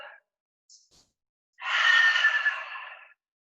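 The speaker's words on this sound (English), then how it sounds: "Now and again, you'll have that noisy exhalation" A noisy breath pushed out hard during a Pilates exercise, a single long, airy whooshing exhale close to the mic, preceded by a couple of short faint breath sounds.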